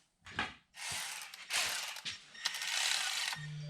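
A ratchet runs down bolts on the valve bridges of a Cummins engine, rapid clicking bursts in several close, loud runs separated by short pauses, with no talking.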